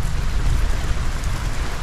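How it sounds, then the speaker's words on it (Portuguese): Steady heavy rain hisses with a deep, continuous rumble of thunder underneath, loud and unbroken, during flooding in Rio Grande do Sul, Brazil. "Escuta os trovões."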